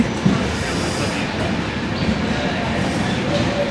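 Steady low rumble of a moving train heading away from Pathankot, heard from inside an AC coach on a cold morning, a broad continuous roar with faint rattles and no pauses.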